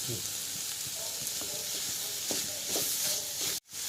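Onion and tomato fry in oil in a pan, a steady close sizzle and hiss with occasional soft stirring scrapes, cutting out briefly near the end.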